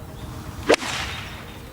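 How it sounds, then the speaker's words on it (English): A single sharp swish and crisp strike as a professional golfer's club compresses the ball, cutting through quiet outdoor background, followed by a fading airy whoosh. "the sound that the ball makes coming off a professional's club"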